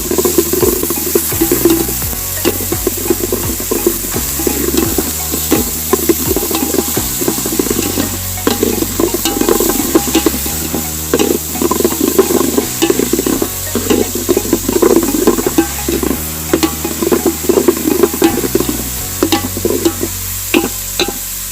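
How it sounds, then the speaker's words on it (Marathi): Two whole finely chopped onions sautéing in a pan for Malvani tambda rassa, a steady close sizzle with repeated scraping stirs throughout, no talking. "2 ते 3 मिनटं कांदो चांगलं परतून घ्यायचो"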